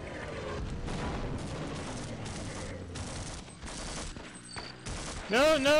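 Rapid bursts of gunfire from the horror game They Hunger, with repeated loud volleys and blasts running through the whole stretch, ending in a sharp swelling electronic tone.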